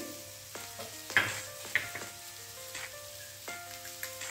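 Okra frying with masala, turmeric and coriander-cumin powder being stirred in, a soft sizzle broken by irregular scraping strokes and a few light utensil taps, quiet and close.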